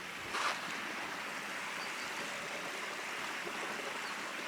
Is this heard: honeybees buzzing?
no